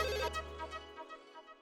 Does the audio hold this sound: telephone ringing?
yes